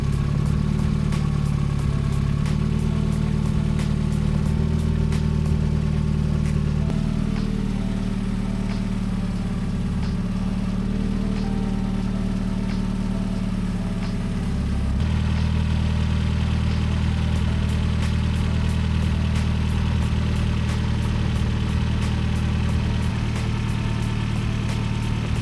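A Mazda Miata engine runs close by in a steady, loud idle with a persistent low hum and faint ticking clatter. The pitch shifts slightly partway through, with no talk.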